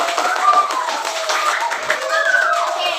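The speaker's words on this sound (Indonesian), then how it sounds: "Kita kasih tepuk tangan." Classroom applause as pupils clap for a classmate after a turn at the front, a busy steady patter of many hands mixed with voices for about three seconds.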